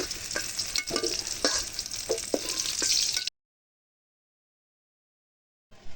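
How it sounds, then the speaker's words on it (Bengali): Fish frying in a pan sizzles loudly and steadily, with several sharp scrapes of a spatula stirring it, before the sound cuts off into silence about halfway through. "মাছও ভাজা হয়ে গেছে এখন নামিয়ে নিচ্ছি"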